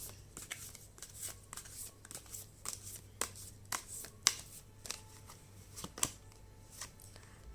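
Tarot cards shuffled and drawn by hand during a reading, a run of soft, quick riffling snaps and slaps in irregular bursts, close and quiet, with no talking.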